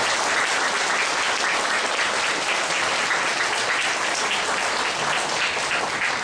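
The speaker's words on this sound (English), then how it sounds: "Maybe let's give them a very big round" A school audience at a Parents Teachers Association evening gives a big round of applause, a dense, even wash of clapping that holds loud and unbroken throughout.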